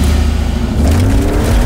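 A Mercedes-AMG engine growls with a steady, loud low rumble that swells slightly partway through, heard alone and close.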